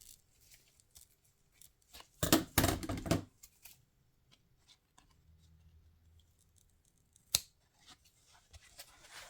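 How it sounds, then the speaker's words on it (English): A short run of crisp snipping and crunching as scissors cut through a soft foam tyre insert for a Tamiya Bruiser RC truck, followed by quiet handling noises and a single sharp click. "grab your scissors and cut"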